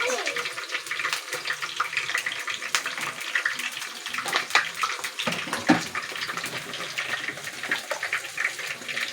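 Pasta and a splash of oil go into a pot of boiling water, making bubbling and splashing with a few louder gushes and clinks, while someone talks quietly over it.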